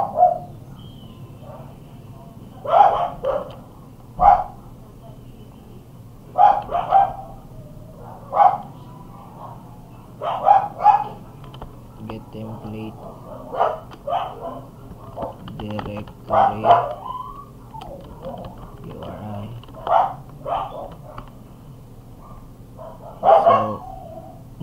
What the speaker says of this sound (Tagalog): kasi ang ingay ng aso